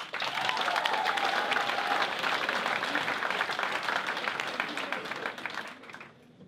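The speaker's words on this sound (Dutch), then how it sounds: "Dames en heren, geef ze een heel groot applaus." A crowd applauds a band at a stage show, with loud, dense clapping that holds steady and then fades out at the end, while a faint voice is briefly heard over it early on.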